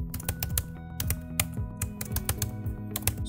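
A person's name is typed on a computer keyboard in quick bursts of clicky keystrokes, close and clear, with a few louder key presses and no talking.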